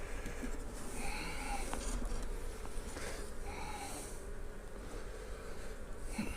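Honey bees hum in a dense, continuous drone around an opened hive in a back garden, close to the listener, with individual bees flying past and the pitch wavering as they circle.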